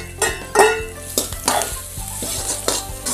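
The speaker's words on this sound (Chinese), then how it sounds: "鸡杂咱稍微多炒一会儿啊" Chicken giblets stir-frying with scallion and ginger in a hot wok, steady close sizzling broken by several sharp scrapes and clacks of the spatula against the pan, with no talking.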